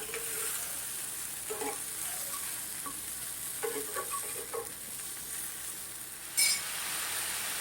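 Tomatoes roast in a pan for a spicy tomato chutney, giving a low steady sizzle with soft clicks and a few short crackling bursts, one sharper pop near the end, with no talk.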